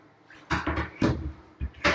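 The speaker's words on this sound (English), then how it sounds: "no hardware, push to open doors" A push-to-open cabinet door without hardware is pressed and released in a home interior, giving several quick, close soft clicks and thuds in a brief series.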